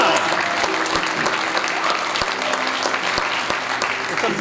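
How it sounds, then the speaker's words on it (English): Crowd applause at a Burns Night 2023 community gathering, a dense steady round of clapping from a sizeable audience that fills the whole stretch at an even, fairly loud level, with a few sharper claps standing out. "Give yourself a round of applause."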